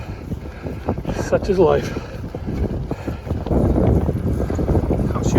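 Wind buffets the microphone outdoors beside a paved road near a skate park, a steady low rumble that swells and gusts, with a person talking over it.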